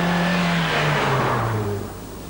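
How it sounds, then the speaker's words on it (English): A car engine pulls hard through the gears in an early-1990s road test, a loud, close drone whose pitch sags as the clip goes on before the sound eases off at the end. "there's also quite a lot of engine noise, particularly when you're pressing on through the gears"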